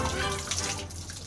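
Water scooped with a ladle from a well is poured for bathing in a basic washroom with no shower in remote Indonesia, a steady close splashing gush with no talk.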